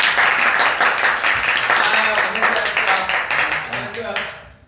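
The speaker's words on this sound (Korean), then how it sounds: "우리 오늘 상 받은 거 자 일단 박수 한번 칩시다." A small group claps together enthusiastically in a close, lively burst, with voices and cheering mixed in before the clapping fades out at the end.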